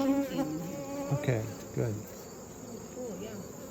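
Honeybees buzz steadily at an open hive, a close, continuous hum with a voice speaking briefly over it.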